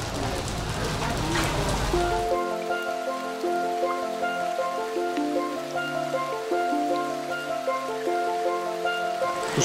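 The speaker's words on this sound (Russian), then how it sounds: "дождик вообще не решил сегодня прекратиться ни в коем случае. Идет и идет просто" Steady rain falls in Bali, a dense hiss of drops on surfaces heard at first alone, then continuing underneath music for the rest of the stretch.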